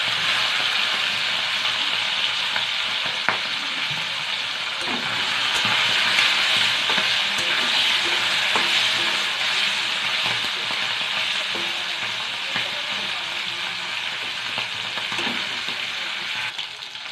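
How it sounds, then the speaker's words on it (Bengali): Fish fry in hot oil in a wok, giving a dense, steady sizzle with crackling spatters and occasional scraping of a utensil. The frying stays close and continuous throughout, with no voices. "তেল গরম হয়ে গেছে, এবার মাছগুলো ভেজে নেব।"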